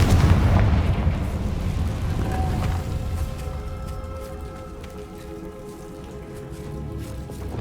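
A Confringo blasting spell explodes in Hogwarts Legacy, a loud deep booming blast that rumbles and decays into a lingering crackling tail with fading debris.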